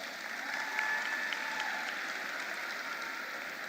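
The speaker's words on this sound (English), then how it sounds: "Can we give them another round of applause?" A graduation audience applauds in a large venue, a soft, even wash of many hands clapping at a distance, steady and continuous.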